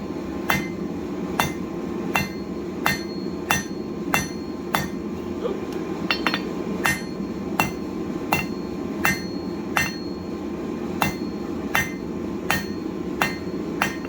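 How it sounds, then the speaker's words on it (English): A blacksmith's hammer strikes hot steel on an anvil to forge a taper, sharp ringing blows falling at a steady, roughly even pace about once a second, close and clear over a low background hum. "We're just going to hit straight down to kind of start putting the taper, one hit on each side, just like that."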